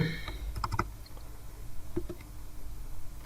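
Python code typed on a computer keyboard: scattered light key clicks in short bursts, close and fairly quiet, with no talking.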